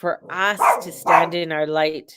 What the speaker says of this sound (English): here goes the dog